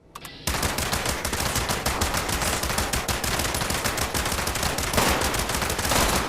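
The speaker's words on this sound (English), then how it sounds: "Coming in at the number 4 spot, the Radium Rifle." Rapid, sustained Radium Rifle gunfire in Fallout 76: a dense automatic stream of loud, close shots running nearly unbroken after a brief quiet start, with no voices.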